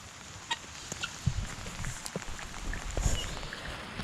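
Guinea fowl give scattered, sharp clucking calls, several short bursts at irregular intervals, fairly close amid a faint outdoor background with no talking.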